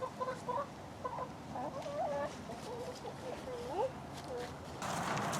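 Backyard chickens cluck in short bursts through a farm coop setting, mid-distance and moderately loud over a rustling background.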